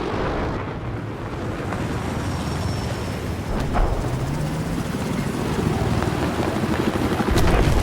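Helicopter rotors whir steadily through a dense, roaring battle din of a Battlefield 4 game, with helicopters fighting tanks and a brief rising whine partway through, and no voices.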